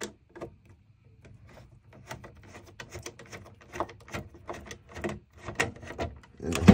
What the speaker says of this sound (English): And there's two screws. I'm going to remove both of these.